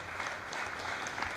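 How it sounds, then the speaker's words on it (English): An audience claps for the chairperson at a public launch event, a steady, moderately distant wash of applause filling the whole moment without pauses. "Another round of applause for the chairperson."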